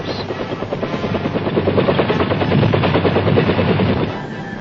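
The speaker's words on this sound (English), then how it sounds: "In case of need, choppers bring in supplies directly to the decks of ships." A military helicopter flies past during riverine operations, its rotor throbbing loudly and steadily for about four seconds before easing slightly at the end.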